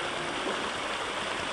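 A small river in the Mossman area near Port Douglas, Australia, running low in the dry season, gives a steady broadband rush of flowing water, continuous and fairly close.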